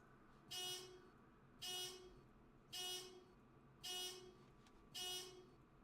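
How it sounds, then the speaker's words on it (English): Five evenly spaced horn honks, each about half a second long, repeating in a steady rhythm over a quiet background. "You guys are hearing that honk,"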